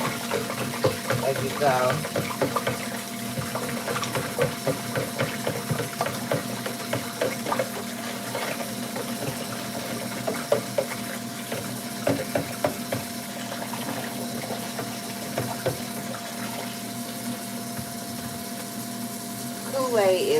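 Water pours and trickles into a container as it fills, a steady low splashing that sits beneath someone talking throughout, with a few clinks and stirring touches along the way.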